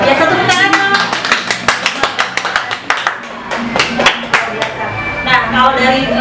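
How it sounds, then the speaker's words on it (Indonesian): A studio audience at an Indonesian talk show claps in a short burst of sharp, separate hand claps that thin out and then return, with people talking over them. "Luar biasa, tepuk tangan dong."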